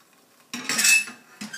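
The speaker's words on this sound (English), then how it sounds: "pick up your pan and swirl the batter around" Crepe batter swirls in a metal pan, giving a short bright scrape and clatter of the pan being tilted, close and fairly loud, with a brief second clink after a pause.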